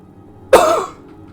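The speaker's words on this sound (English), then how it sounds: "Sorry about the coughing." A single sharp cough, close and loud, bursts out once and fades quickly against a quiet background while someone plays Skyrim.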